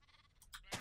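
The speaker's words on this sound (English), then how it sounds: "There's freaking sheep everywhere." Sheep in the modded Minecraft skyblock game let out a couple of short, bright bleats, growing louder toward the end of the brief moment over quiet game background.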